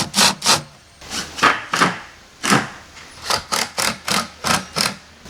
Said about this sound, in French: C'est la fameuse vis vérin, donc que l'on a là, qui vient se visser en fond de feuillure, comme ceci.